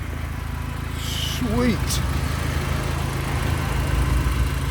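A VW 1.8T 20V engine swapped into a first-generation Hilux, remapped and idling steadily with a low even hum, close by, while someone speaks briefly over it.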